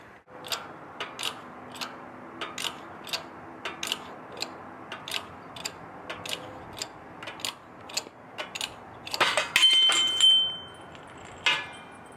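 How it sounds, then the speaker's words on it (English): A new bearing is pressed into a flipped-over hub with a small hand press, giving a regular series of sharp metallic clicks and ticks. Near the end come a louder creaking strain and a squeal. "we're gonna flip the hub over and push the new bearing in"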